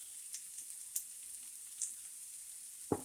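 Super blend salad greens cook in a hot skillet with a faint, quiet sizzle, broken by a few soft ticks and one sharper knock at the end.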